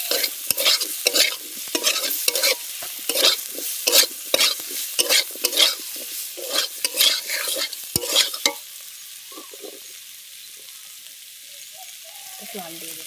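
Chilli and turmeric powder are stir-fried in a pan, a spatula scraping in quick repeated strokes over faint sizzling for about eight seconds, then the stirring stops and only a soft sizzle remains.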